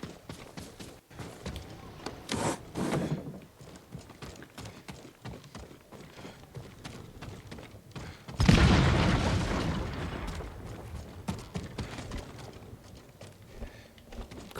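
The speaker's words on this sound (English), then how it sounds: "And those explosion sounds definitely have my curiosity." Explosion in the video game Ghost of Tsushima, a sudden loud broadband blast that decays over several seconds amid ongoing game ambience and footsteps, with an earlier smaller burst.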